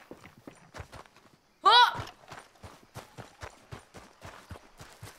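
Horse hooves clip-clop at a steady walking pace in Red Dead Redemption 2, a regular run of close, distinct thumps that continues around a short loud exclamation from a person.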